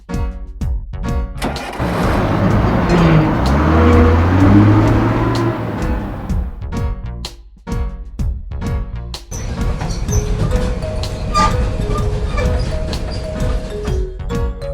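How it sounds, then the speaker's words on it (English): A cartoon bullet train passes with a loud rushing, rumbling roar that swells and fades, then gives way to rhythmic music with bright tones. "Bullet train."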